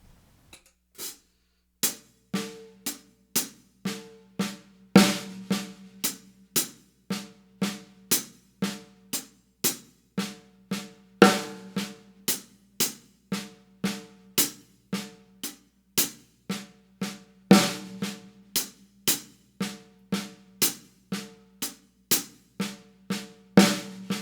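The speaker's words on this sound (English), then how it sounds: "bring that right hand from your hi-hats down to the snare drum on beats 2 and 4" A steady drum groove played alone, crisp hi-hat strokes ticking evenly with a punchy snare hitting on the backbeat, recorded close and clear.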